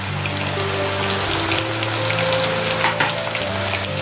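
Curry leaves and green chilies dropped into onions frying in oil for a vegetable pulao, a dense, steady sizzle with fine spattering crackle, loud and close throughout.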